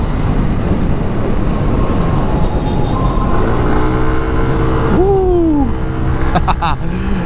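A Yamaha Aerox Alpha Turbo scooter pulls away and accelerates with a rising engine whine and a steady roar of road noise.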